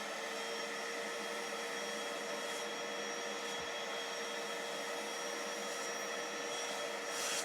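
A small green upholstery cleaning machine shampooing car seats runs with a steady, loud, even whine and suction roar that holds unbroken throughout, close by and without talk.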